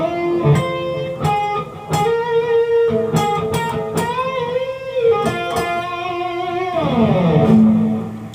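A slow electric guitar lick from a solo played alone, with separate picked notes, bends and sustained tones ringing out clearly, ending on a held, wavering note.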